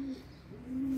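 A male homing pigeon coos inside its loft, a low throaty purring call that swells and fades across about a second, close and clear with no talking.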